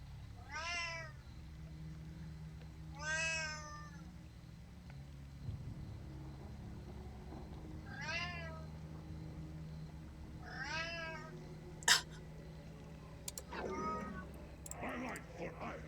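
Four separate cat meows spaced a few seconds apart, clear and close, followed by some clicks and low talking near the end.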